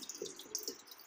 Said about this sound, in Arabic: صح بتخر ميه